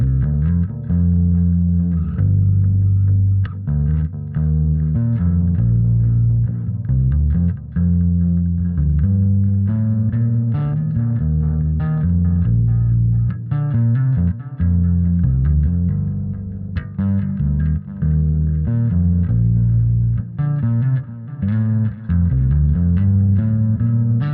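Electric guitar run through delay and reverb effects in an FX loop, playing continuous chords and notes with echoing repeats and a washed, sustained tail, loud and steady throughout with no talking.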